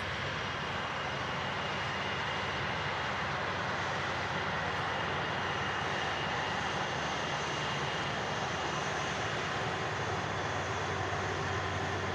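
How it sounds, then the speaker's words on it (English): A Virgin Atlantic Airbus A330-300 taxis out at Manchester Airport, its jet engines giving a loud, steady roar with a whining hum that holds evenly throughout and has no voices over it. "look at the green wings on this A330-300 taxiing out with Virgin Atlantic"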